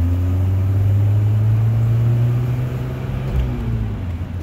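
A 1975 Citroen DS23 Pallas with fuel injection and semi-automatic transmission accelerates in second gear, a steady loud engine drone with a firm low hum heard from inside the car and no talking.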